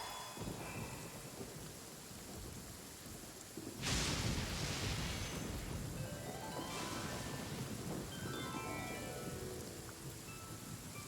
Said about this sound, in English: Without lightning to give warning, the sound of thunder is quite startling.